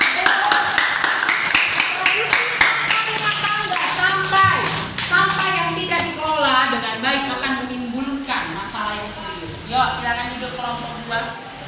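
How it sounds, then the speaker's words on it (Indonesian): Classmates clap for the third group in a school lesson, a brief burst of hand claps at the start giving way to children and a teacher talking. "Tepuk tangan untuk kelompok"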